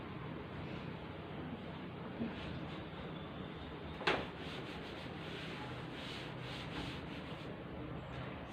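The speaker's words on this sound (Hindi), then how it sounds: "एक काम करती मैं ये वाला रब कर देती" Board eraser rubbed over writing on a board, a steady soft scrubbing hiss that runs the whole time with a single sharp tap partway through.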